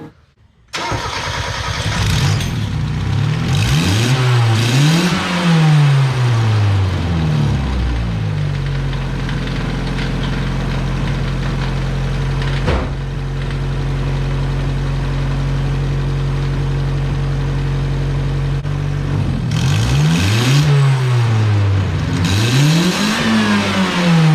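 A turbocharged Mazda Miata engine cranks and catches, revs up and down a few times, settles into a steady loud idle, then revs again near the end.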